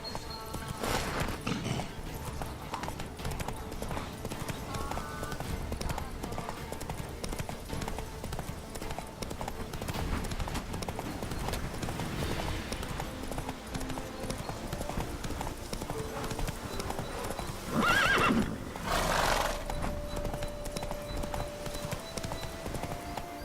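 Roach the horse gallops in The Witcher 3, a steady rhythmic clip-clop of hooves with a clear neigh near the end, over low game music and faint speech.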